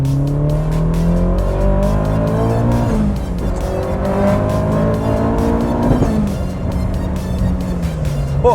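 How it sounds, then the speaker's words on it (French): A turbocharged Nissan Silvia S15 Spec R pulls hard in second gear, engine note rising steadily with a brief dip mid-pull, loud and close with no one talking. "Par exemple, une petite reprise en seconde."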